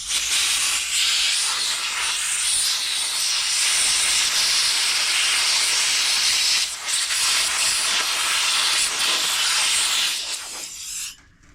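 An aerosol can of brake parts cleaner sprays a long, steady hiss onto the rear brake parts of a 2014 VW Tiguan R-Line, running loud and close for about ten seconds before it cuts off.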